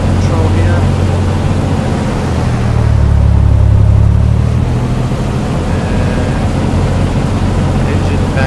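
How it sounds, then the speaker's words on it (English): Cessna 182 Skylane engine in a flight simulator, a loud steady rumbling drone whose pitch dips and swells as the propeller control is cycled, with someone talking over it. "Then we want to cycle the prop control here."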